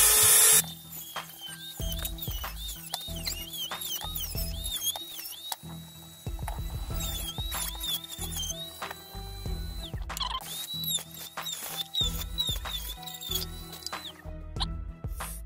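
Teccpo 200-watt corded rotary tool with a cutting blade working through wood, a high motor whine rising and dipping in bursts as the blade bites, with scraping and knocking underneath and brief pauses between passes.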